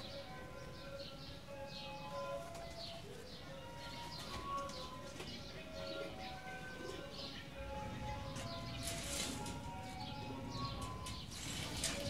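Soft cooing from several domestic high-flying pigeons, including Teddy breed, low repeated coos over a steady background hum and murmur, moderately near.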